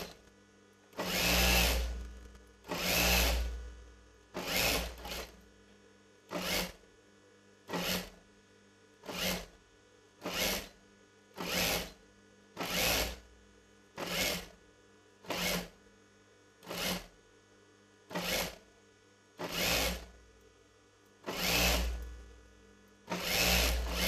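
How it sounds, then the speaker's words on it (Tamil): A domestic sewing machine stitches along the folded edge of cut cloth for a chudidar front neck, running in about sixteen steady short bursts with brief pauses, close and clear with a faint motor hum between runs. "கட் பண்ணி வச்சது இந்த ஓரத்தில் நம்ம மடித்து தச்சிக்கிட்டே வரலாம்."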